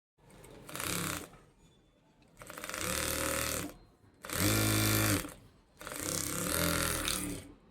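A sewing machine runs in four separate bursts while stitching the bottom hem of a salwar. Each run is loud and close, with short pauses between bursts and no talk over it.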